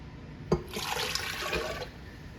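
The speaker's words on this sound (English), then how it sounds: "to that, we're gonna add about 2 cups of water" Water poured from a container into a crock pot over a frozen rump roast, a brief splashing pour of about a second after a small clunk, fairly quiet and close.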